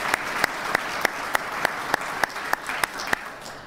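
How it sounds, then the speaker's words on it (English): Audience applause at a military promotion ceremony for a colonel becoming brigadier general, showing regular sharp claps in a steady rhythm over a soft crowd wash, moderately close and with no talk. "let's give a round of applause for everybody who participated in the setup and assisted with the ceremony"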